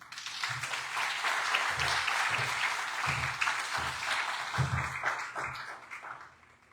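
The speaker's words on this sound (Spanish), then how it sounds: "Un aplauso, por favor." Audience applauds at the premiere of the AI-made short film "El viaje al Xibalbá": a steady, dense crowd clapping sustained for several seconds, with low thumps scattered throughout, fading slightly at the end.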